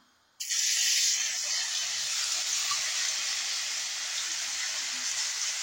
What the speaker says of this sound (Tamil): ஆயில் நல்லா காஞ்சிருச்சு. ஸோ ஆயில்ல போட போறோம்.